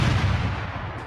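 A loud, booming blast sound effect dropped into an HVAC talk show, one heavy rumbling burst that fades out over about a second with no talk over it.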